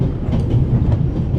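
Train rolling on rails in The Raven Remastered, a steady low rumble with faint rhythmic clatter running continuously and fairly loud, no voices.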